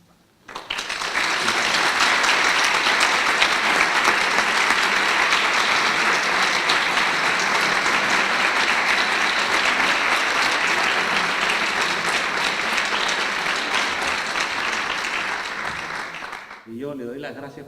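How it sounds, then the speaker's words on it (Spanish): An audience at a literary talk bursts into sustained applause, dense and loud for about fifteen seconds before tapering off quickly at the end. "vamos a despedir a Jorge Edwards con un gran aplauso"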